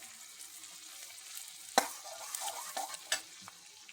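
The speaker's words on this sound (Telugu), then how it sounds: "ఇదైతే ఫ్రై అవుతుంది, ఇంకా కొంచెం ఫ్రై కావాలి" Masala frying in a pan: a soft continuous sizzle with a few sharp spoon scrapes and taps, close and fairly quiet, nobody speaking.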